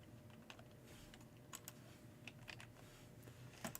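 Soft, intermittent keystrokes on a computer keyboard, scattered taps and short clusters of typing at low volume, with no voices.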